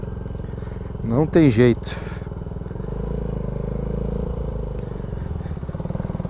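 A motorcycle with a leaking gear position sensor idles steadily close by, a low continuous engine hum under a brief spoken remark near the start.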